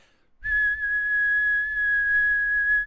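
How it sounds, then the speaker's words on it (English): A person whistles with pursed lips, holding one steady, clear pitched note for over two seconds after a short silence, close and loud. "You need to know how to whistle to the outside with your lips."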